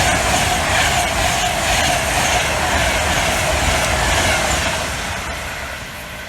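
A loud, continuous rumble and rattle of train carriages rolling past close by through Lichfield Trent Valley station, gradually fading toward the end.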